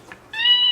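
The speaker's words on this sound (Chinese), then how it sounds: "还有猫叫" A cartoon cat meow sound effect from an English learning app for children, a single short bright meow heard clearly on its own after a faint tap.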